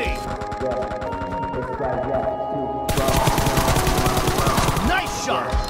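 Rapid automatic gunfire from the PUBG Mobile game crackles in dense bursts, growing louder and fuller midway, layered under music and a talking voice.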